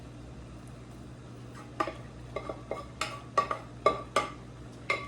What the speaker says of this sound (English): spread that nice even layer of rice on the bottom of your pan